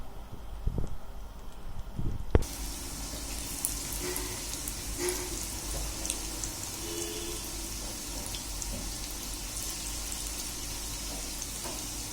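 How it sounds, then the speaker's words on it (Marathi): Coriander vadi shallow-frying in oil in a frying pan, opening with a few soft clinks and knocks before a loud, steady sizzle suddenly starts and hisses on unbroken to the end. "आता या वड्या आपल्याला शॅलो फ्राय करून घ्यायच्या."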